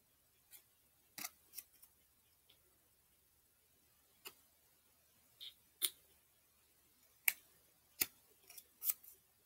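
Scissors snipping through material, a series of short quiet cuts in irregular bursts with pauses between, close by and alone.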